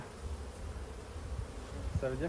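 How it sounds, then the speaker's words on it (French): A dense, steady buzz of many honey bees on a hive frame during a hive inspection hums close by, with a brief voice-like murmur near the end. "Ouh là là, ouais, c'est chargé en abeilles là."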